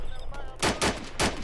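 Gunshots in the Arma 2 video game crack out in three loud, evenly spaced reports over a steady background rumble.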